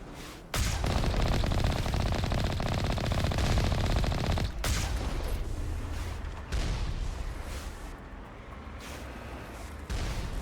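Heavy sustained automatic gunfire from Geth turrets in Mass Effect, a loud rapid stream of shots with brief breaks and booming impacts, continuing at varying intensity without speech.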